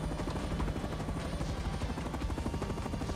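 An attack helicopter in a video game flies with a steady, dense rotor thump and engine roar, loud and continuous throughout.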